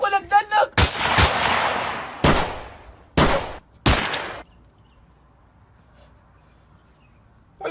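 Gunshots in a comedy sketch: a rapid cluster of loud, close blasts followed by several spaced heavy shots with reverberant tails, then near silence.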